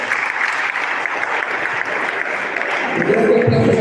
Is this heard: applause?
yes